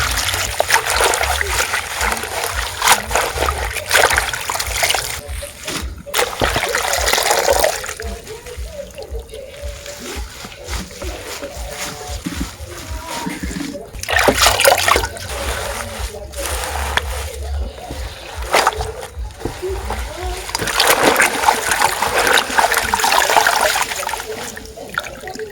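Freshly picked vegetables are washed by hand in water outdoors in a village, with loud sloshing, splashing and trickling in several long bursts separated by quieter pauses.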